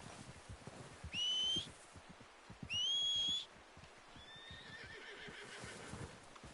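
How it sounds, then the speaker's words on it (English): In the video game Red Dead Redemption 2, a rider whistles twice with sharp rising tones, and a horse answers with a whinny amid steady hoofbeats on the ground. "O seu cavalo atenderá aos seus chamados se estiver dentro do alcance."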